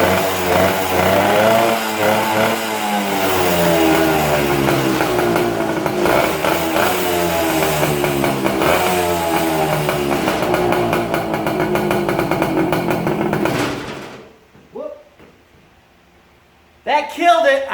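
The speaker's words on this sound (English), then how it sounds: "Let's go through the gears, see how it does." Old Yamaha enduro motorcycle revving up and shifting through the gears, the engine note rising and dropping repeatedly, loud and close, then cutting out into near silence before a brief burst.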